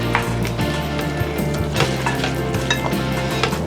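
Onions, peppers and meat stirred in a sizzling frying pan, a steady close frying hiss with repeated scraping strokes of the utensil, no talking.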